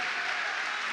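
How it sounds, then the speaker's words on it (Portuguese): Audience applause at a talk, a dense, steady wash of clapping that fills the whole brief moment at full loudness, with no voices rising above it. "Vamos aplaudir, velho."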